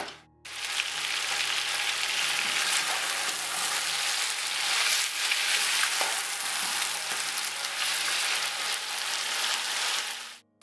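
Pieces of chicken fry in a pot for Hyderabadi pulao, making a loud, continuous crackling sizzle that holds steady for about ten seconds before cutting off, heard close with no speech.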